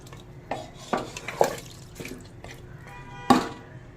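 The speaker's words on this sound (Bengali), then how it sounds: "এবার ঝোলের জন্য দিয়ে দেবো পরিমাণ মতন জল। জলের পরিমাণটা বুঝে দিতে হবে। আবারও নেড়ে ভালো করে মিশিয়ে নেব।" Water goes into a pot of mutton curry and it is stirred, giving wet splashing and scraping clinks of a spoon against the pot, irregular and close, the sharpest knock near the end, with no voices.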